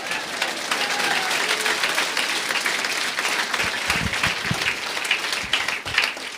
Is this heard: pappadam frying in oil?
no